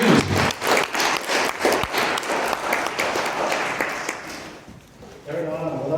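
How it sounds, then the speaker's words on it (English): Applause at a presentation fills most of the clip, dense clapping from an audience that fades out near the end before a voice begins speaking. "give him a round of applause"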